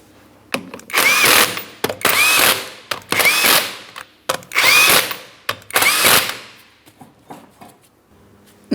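An impact-style power tool runs on the 19mm lug nuts of a Cadillac CTS wheel in five loud, close bursts of about a second each, with short gaps and ratcheting clicks between them.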